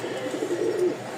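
A Rajshahi giribaz pigeon gives a soft, low, throaty coo close by in a quiet setting, one short rolling call.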